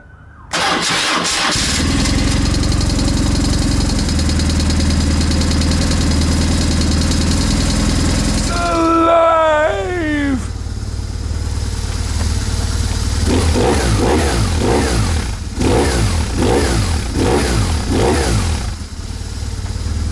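A BMW R1150GS motorcycle engine starts after a fuel filter and fuel pump service, then runs steadily, loud and close, with a brief chirping squeal partway through and a pulsing idle afterward.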